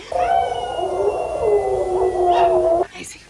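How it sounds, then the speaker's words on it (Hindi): A dog gives one long, loud, mournful howl lasting about three seconds, wavering slightly in pitch before stopping abruptly. "दूर से कुत्ते की जोर जोर से रोने की आवाज आती है।"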